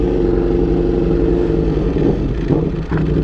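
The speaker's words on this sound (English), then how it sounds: "I think I'm going to take the freeway so y'all can kind of hear the exhaust" A Ducati Panigale V4 sport bike at freeway speed gives a loud, steady exhaust drone with deep low rumble, recorded close from the rider's position, with a slight dip and surge in engine note near the end.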